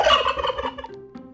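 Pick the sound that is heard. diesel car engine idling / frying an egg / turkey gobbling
turkey gobbling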